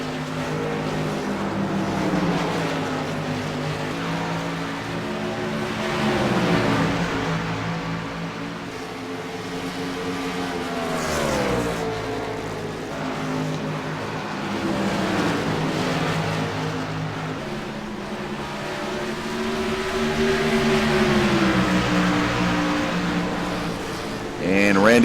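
Race cars lapping Dover International Raceway in a night race, engines droning loudly with rising and falling pitch as cars sweep past, continuous over the whole stretch, with a commentator talking over the roar.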